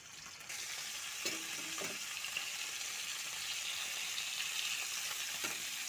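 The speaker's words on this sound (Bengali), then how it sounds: "কড়াইয়ের মধ্যে প্রথম তেল দিয়ে দিলাম, তারপর মাছগুলা দিয়ে দেন একটা একটা করে" Fish frying in oil in a kadai, a steady close sizzle with bubbling crackle and a few soft clinks of stirring, with no talk.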